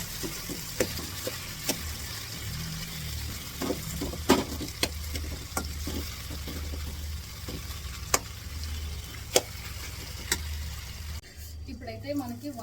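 Eggplant being mashed and fried in oil in a pan for vankai baaji, a steady low sizzle with scattered sharp taps of the utensil against the pan, heard under a person talking.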